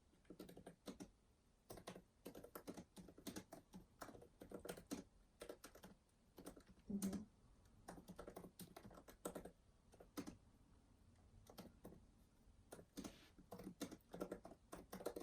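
Soft, close typing on a computer keyboard at a library desk, with irregular bursts of quiet clicks and taps and brief pauses between them. No one speaks.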